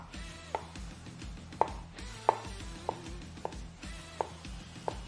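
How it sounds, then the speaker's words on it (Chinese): Knife chopping fresh ginger on a cutting board, about eight sharp evenly spaced thuds at a steady unhurried pace, close and clear over a faint hum, no voices. "这样我们切。"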